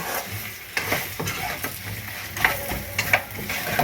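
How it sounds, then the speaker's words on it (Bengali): Semolina being stirred and mixed with spices in a pan, a spatula scraping and shuffling through the dry grains in repeated strokes, with a light sizzle underneath and no voices. "এইবার আমি সুজিটার সঙ্গে মশলাটা ভালো করে মিক্স করব"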